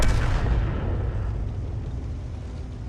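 A Conqueror Gun Carriage fires its artillery gun in a tank video game, giving a single heavy boom that fades slowly into a long, rumbling tail.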